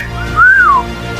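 A single rising-and-falling whistle by a person, a catcall-style tone lasting under half a second, loud and close against a quiet background.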